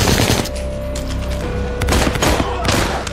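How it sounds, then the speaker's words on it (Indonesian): Rapid gunfire in an Indonesian action film fight, dense overlapping shots rattling in quick bursts over a loud, continuous background of scuffling and movement. "Ryan menghabisi anak buah Yanto dan berhasil menembak kedua kaki Yanto"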